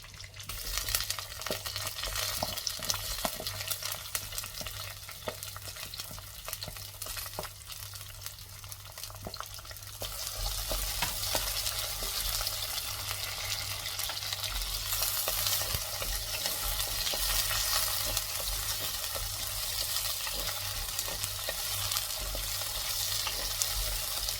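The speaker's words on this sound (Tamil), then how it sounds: "பொரிஞ்ச உடனே நம்ம வெங்காயம் ஆட் பண்ணிக்கலாம்" Fenugreek seeds splutter and crackle in hot oil as onions fry in the pan, a steady close sizzle that grows brighter and denser partway through, with no speech.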